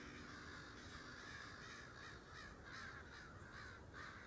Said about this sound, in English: I heard a bunch of birds just now.